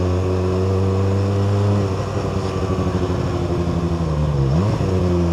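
A QJMotor SRK 921 RR motorcycle with its stock exhaust idles loud and close with a deep steady drone, then the engine note dips and sweeps briefly upward in a quick rev before settling back.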